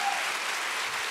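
Audience applause at a TEMA Foundation 30th anniversary broadcast event, steady even clapping filling the whole short moment with no talk.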